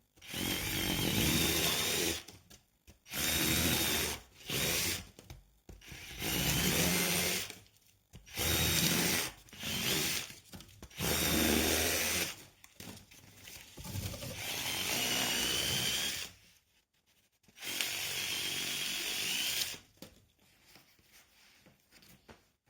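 An electric cutter for cardboard and sheet metal runs in repeated bursts, a buzzing motor with a rough cutting rasp, switching on and off in short bursts followed by a longer run.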